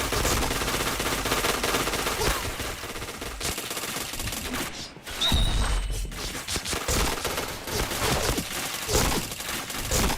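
Rapid, dense gunfire rattles steadily through a Point Blank shooting game, loud bursts piling on each other with a brief lull midway.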